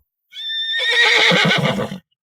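A person imitates a horse's whinny: a loud, close, rising neigh with a shaky, fluttering tail lasting about two seconds, with no other sound around it.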